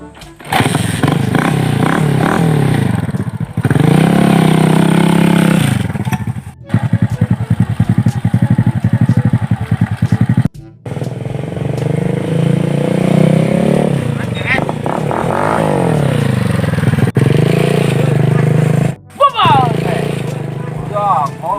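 A motorcycle engine runs loud and close, revving up and down in rising and falling whines with brief cutoffs, while people talk over it throughout.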